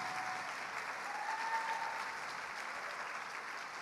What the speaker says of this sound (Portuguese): agora pode aplaudir Jesus